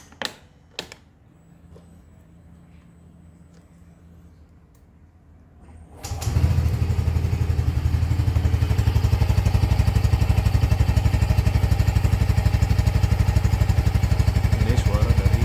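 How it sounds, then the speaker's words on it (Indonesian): A Yamaha Freego S Connected 125 scooter's engine starts about six seconds in after a quiet stretch with a few small clicks, then runs steadily and loudly at a close, even idle to the end. "Ini suara dari Yamaha Frigo."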